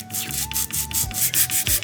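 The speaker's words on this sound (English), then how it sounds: "So we tried sanding the pads down a little bit just to make them smaller." Steady rhythmic scraping and rubbing of abrasive against brake pads, sanding them down, repeated back-and-forth strokes, close and moderately loud, with a faint hum underneath.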